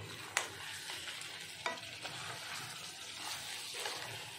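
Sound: stirring crab and potato curry in a pan

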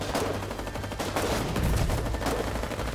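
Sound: gunfire in Foxhole video game

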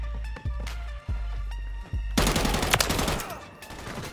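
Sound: gunfire from a video game

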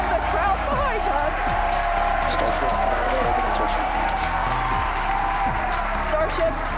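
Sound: crowd cheering and applauding at SpaceX Starship launch

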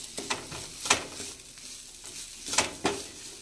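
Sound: stirring melting sauce in a pan

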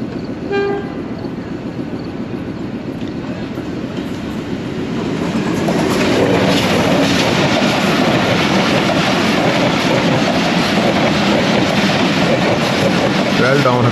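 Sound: Hazara Express train led by HU-20 locomotive passing on main line

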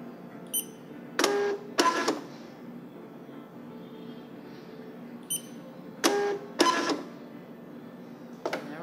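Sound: TSC label printer running a print file

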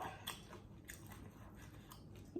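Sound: crunching on crispy fried lizard

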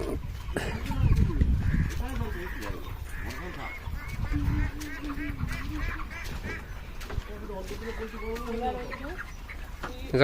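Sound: chickens in a village

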